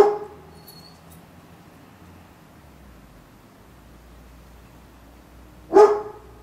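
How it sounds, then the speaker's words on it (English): A puppy gives a single sharp bark near the end of a quiet stretch filled with faint background hiss, after one soft sound at the very start. "Puppy."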